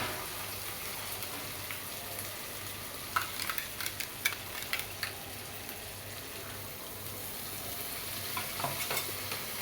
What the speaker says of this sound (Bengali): বাদাম বাটাগুলো দিয়ে দিচ্ছি। ভালোভাবে কষাই নিব আমি।